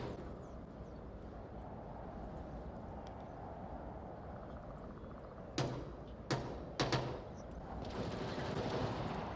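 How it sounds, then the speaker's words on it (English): Sporadic gunfire in the VR shooter OnwardVR, a few distant sharp pops around a hotel with long sight lines, set over a steady low rumble of background ambience. "Some little pop shots from Lee over here will get Argentino shooting back from that north hotel"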